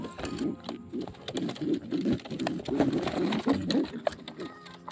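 Racing pigeons coo in soft, repeated throaty bursts, close by, with a few light clicks and rustles among the flock.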